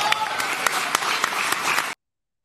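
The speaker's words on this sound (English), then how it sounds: "that whooping and cheering are the season ticket holders" Season ticket holders at a Cubs fan convention erupt in sustained applause and cheering, a loud, dense crowd roar with scattered sharp claps that cuts off abruptly.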